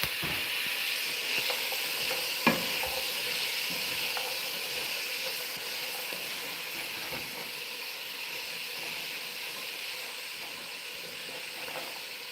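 Pasta e fagioli cooking in a pot, a soft continuous sizzle and hiss with faint scraping stirs and one sharp clink of a utensil against the pot, quiet and without talk.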